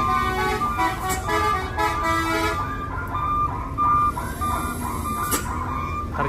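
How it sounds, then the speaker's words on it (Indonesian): A truck's telolet musical horn sounds in a port area, several bright tonal toots in a melodic pattern over rumbling engine noise, loud and close. "ternyata truk juga ada teloletnya"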